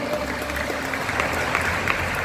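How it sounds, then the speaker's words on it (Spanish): Congregation applauding at a religious conference in a church hall, a steady wash of clapping from many hands with a low rumble of crowd noise underneath. "Un aplauso para el Señor."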